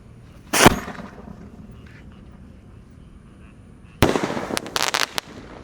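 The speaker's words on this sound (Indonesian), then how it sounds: "di sini ada Bima Sakti Roman Candle yang ukuran 3 inci guys" Bima Sakti 3-inch Roman candle fireworks at night during Ramadan, one loud sharp launch crack, then after a pause a burst of rapid crackling shots in quick succession, loud and close.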